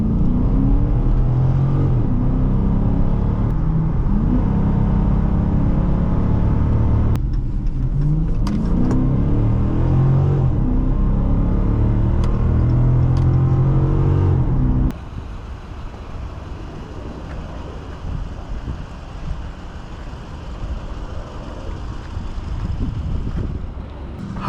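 A 2019 Dodge Charger Police Pursuit with a 5.7 V8 and all-wheel drive accelerates hard, its engine note climbing through repeated upshifts for about fifteen seconds before settling into a quieter cruise with road and wind rush.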